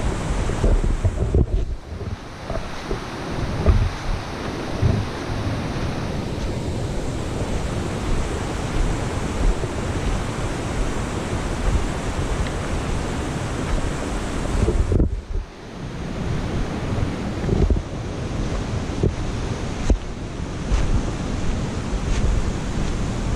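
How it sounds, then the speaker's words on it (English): A loud, rushing river at a trail crossing roars continuously, with boulders tumbling in the current and heavy wind buffeting the microphone, and one brief dip partway through. "You can hear boulders being tossed about inside, in the water."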